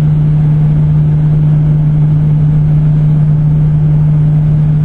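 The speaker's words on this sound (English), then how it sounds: "That's their kiln drying facility, located right next door to the residence here." Lumber kiln drying facility at an industrial timber company at night: a loud, constant low hum with a strong steady drone, unbroken throughout and no talking.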